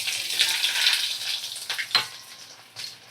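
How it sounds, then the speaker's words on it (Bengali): Chopped onions frying in a pan after potatoes were browned for a mutton dish, a bright, hissing sizzle with a few utensil scrapes, close and steady. "এবারে দেখো, আমি কুচনো পেঁয়াজ দিয়ে দেব।"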